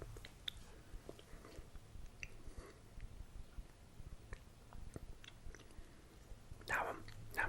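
Uyghur food is chewed and bitten close up in a quiet room, with soft wet chewing, small crunches and irregular mouth sounds, and a louder bite near the end.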